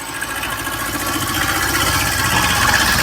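Kubota B7000 tractor with rotary tiller attachment, its small diesel engine running steadily with a constant rattling drone, close and loud, no voices.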